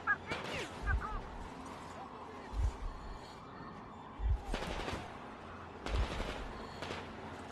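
Gunfire in a fight in Metro Exodus: four or five sharp, loud shots spaced roughly every second and a half, each with a heavy low thump, over a steady background rumble.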